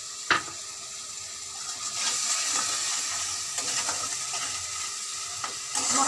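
Spice paste with tomatoes sizzles in oil in a pan, a steady close frying hiss with occasional stirring clicks and scrapes.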